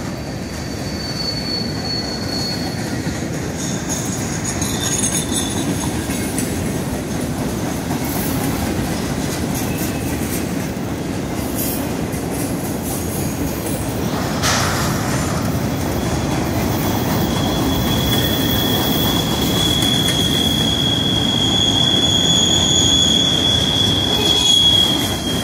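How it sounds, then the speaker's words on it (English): A train creeping slowly along the rails, heard as a continuous low rumble of rolling wagons with high squealing wheels that swell into a thin sustained screech near the end, no voices. "You'll see the train on the other side,"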